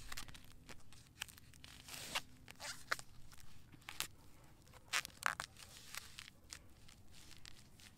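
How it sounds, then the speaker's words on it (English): Duct tape is pulled and torn off the roll while securing a young beech tree wrap, with several short crisp ripping bursts among soft rustles and crinkles, close and fairly quiet. "Now I'm just going to secure it with a little duct tape."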